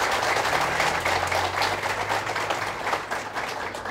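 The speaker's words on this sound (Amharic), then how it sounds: "ስለዚህ እስኪ ሞቅ ያለ ጭብጨባ አድርጉላቸው" Warm audience applause at an Ethiopian holiday gift event, a full sustained wash of many hands clapping that stays steady and loud throughout.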